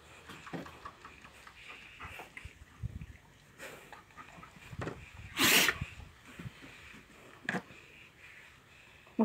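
An Alabai, a Central Asian Shepherd dog, gives one sharp, loud sneeze, a short burst standing out over quiet rustling nearby, with a few softer snorts and shuffles around it.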